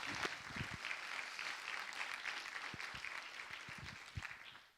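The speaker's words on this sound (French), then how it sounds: "On peut vous applaudir." Audience applause after talks at an agroecology and carbon conference, a fairly faint, steady patter of clapping from a modest crowd, a few louder individual claps standing out, fading at the end.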